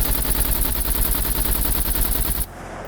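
Automatic gunfire in SCUM rattles in a fast, steady stream of loud close shots for over two seconds, then cuts off abruptly into quiet.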